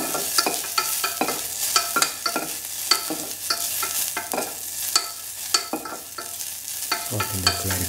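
Raisins frying in clarified butter on a stove produce a steady, loud sizzle broken by repeated scraping stir strokes throughout.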